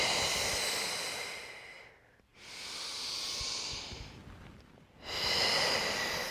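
Slow, deep breathing during a Pilates class, with three long airy breaths separated by brief pauses, heard close and alone.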